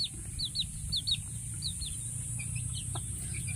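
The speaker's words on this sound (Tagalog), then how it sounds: "Ang dami ng mga sisiw." Free-range native chickens and chicks on a farm: repeated high chick peeps and soft clucks, close and clear over a constant high insect-like hum.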